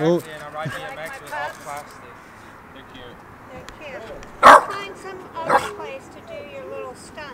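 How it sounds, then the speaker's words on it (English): Boston Terriers let out sharp yips and barks on a street, short bursts scattered among near-constant talking, with a couple of louder barks standing out toward the middle. "They're Boston Terriers."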